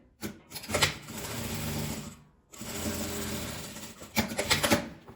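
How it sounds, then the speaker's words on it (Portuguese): Sewing machine stitching printed fabric face to face for a small ruffled zipper pouch, two close, steady mechanical runs with a short pause between them, ending in a few quick bursts. "Agora eu vou pegar essa parte do tecido estampado de frente, aqui frente com frente, passar uma costura."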